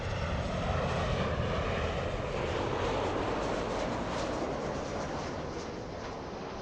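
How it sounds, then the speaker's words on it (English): An Air France airliner bound for Paris flies at LAX, its jet engines a loud, continuous broadband roar that holds steady and fades slightly toward the end, with no voices. "Air France flying to Paris."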